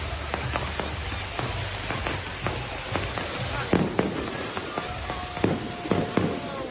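Fireworks go off in a stadium, a series of sharp distant cracks and pops over a steady crowd-like wash, with a few whistling rising streaks and louder bangs toward the end.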